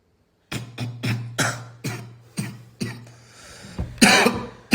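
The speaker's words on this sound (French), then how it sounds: "La main devant ta bouche quand tu tousses." A person sick with Covid coughs repeatedly, about eight sharp, harsh bursts in an uneven rhythm at close range, each with a short rough tail, the last ones loudest. No speech.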